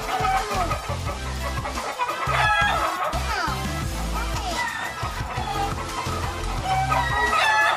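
A rooster crows repeatedly amid clucking fowl, loud and close, with a person talking intermittently over the birds.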